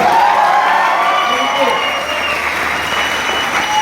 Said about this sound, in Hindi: जोरदार ताली स्मार्ट वैल्यू के लिए।